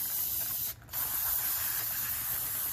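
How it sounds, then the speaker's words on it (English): Brake cleaner sprays from an aerosol can onto the rear brake parts of a 2021 Jeep Grand Cherokee: a loud, steady close hiss, briefly cut off once before resuming, with no talk. "don't be shy with the brake cleaner"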